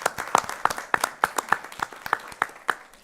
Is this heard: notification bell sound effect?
no